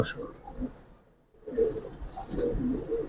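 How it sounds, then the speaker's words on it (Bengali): A Giribaz pigeon, a silver-colored fancy breed, coos in soft low throaty bursts close by, with a brief pause midway, while someone talks over and around the calls. "এটা অনেক তেজি একটা কবুতর ভাই মাকড়া"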